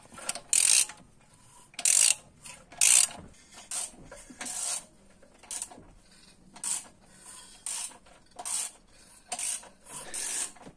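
A Peugeot 106 engine is turned over by hand with a ratchet, giving repeated sharp clicking bursts at an uneven rhythm, close and moderately loud with quiet gaps.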